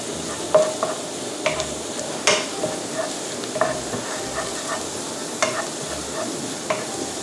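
Garlic fries in a pan for a Vietnamese-style steamed rice-skin snack, a continuous crackling sizzle broken by sharp stirring clicks and scrapes of a utensil, close and fairly loud with no speech.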